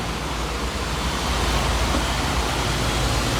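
Water pours down a waterfall at a cool forest temple site in Laos, a steady, dense broadband roar that stays loud and constant throughout with no voices.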